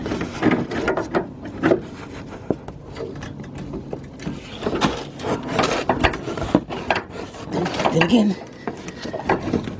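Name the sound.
cutting a rusted brake line with snips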